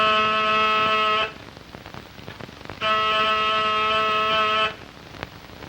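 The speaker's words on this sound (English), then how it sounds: "That's the doorbell." A doorbell in a 1935 mystery drama buzzes twice in long sustained tones, each ringing more than a second and separated by a short quiet gap, with no speech.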